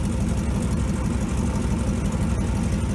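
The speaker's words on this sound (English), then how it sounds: "it sounds pretty good. Idling by itself there." A 1957 GMC 370 fire truck engine idling on its own with an uncleaned carburetor, giving a steady low rumbling chug at close range that stays even for the whole stretch, with no talking.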